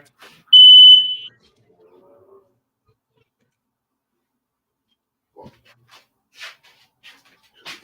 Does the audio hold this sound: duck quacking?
no